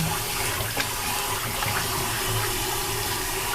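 Pork ribs being rinsed in water under a steady, splashing running tap at moderate volume, with no talking.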